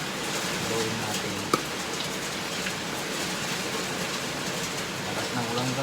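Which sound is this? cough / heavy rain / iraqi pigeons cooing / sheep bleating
heavy rain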